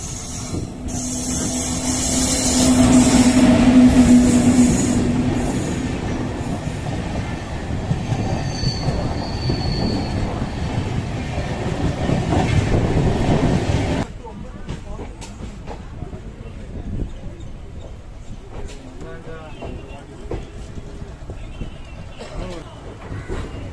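The Kozhikode to Coimbatore Intercity Superfast Express rumbles loudly along the track, with wheels squealing early on, then the roar drops to a lower, steadier clatter inside the carriage.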